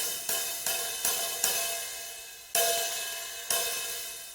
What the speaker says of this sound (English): I'm just going to leave the cymbals nice and sizzly,